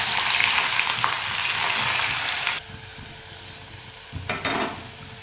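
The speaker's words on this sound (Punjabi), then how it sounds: "ਮੈਂ ਇੱਥੇ ਲਸਣ ਅਦਰਕ ਤੇ ਪਿਆਜ਼ ਇਹ ਕੱਟ ਕੇ ਰੱਖੇ ਨੇ ਮੈਂ ਸਾਰੇ ਦੀ ਸਾਰੇ ਇਕੱਠੀ ਐਡ ਕਰ ਦੂੰਗੀ" Garlic, ginger and onion fry together in hot oil for a dal, making a loud, close, steady sizzle that drops to a quieter crackle partway through and then flares briefly near the end, with no talk.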